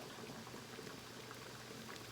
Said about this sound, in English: There is the potato boiling now.